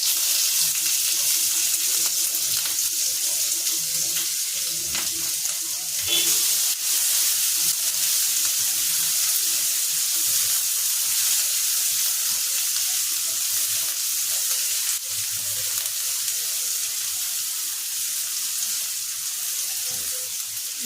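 Curry leaves, asafoetida and onion frying in a mustard-seed tempering for Maharashtrian misal, a steady loud sizzle with light stirring and a brief clatter near the middle, no talking.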